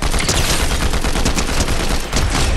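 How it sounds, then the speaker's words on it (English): Combat AR assault rifle fire in Fortnite: a continuous, loud, rapid stream of shots filling the whole stretch, dense and close with only a brief dip near the end. "If you guys aren't using the combat AR, I don't know what you're doing, because this thing is so overpowered"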